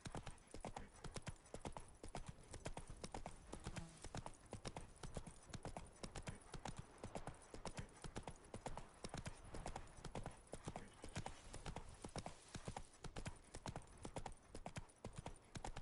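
A horse in a video game clip-clops along at a steady gait, its hooves sounding in dense, continuous rhythmic beats. The sound is faint and even throughout and carries no talking.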